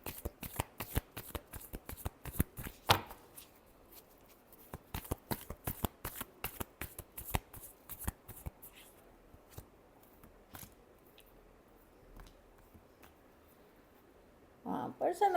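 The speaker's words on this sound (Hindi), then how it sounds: "Last shuffle." A deck of tarot cards is shuffled in quick riffles and taps, crisp and close, with a longer quiet stretch of soft handling and a brief voice near the end.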